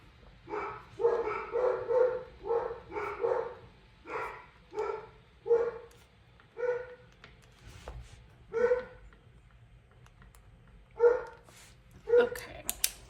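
Dogs bark repeatedly, a dense run of close, loud barks at first that thins into scattered single barks and yips with quiet gaps between them.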